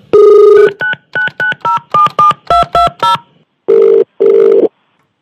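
A phone number being dialed: a string of rapid touch-tone beeps in quick succession, followed by two longer ringing tones, loud and close.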